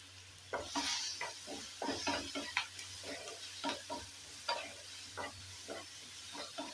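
Capsicum and chopped onion are stirred in a pan for chili paneer, with repeated close scrapes and clinks of the spatula over a soft sizzle and a low hum, no talking.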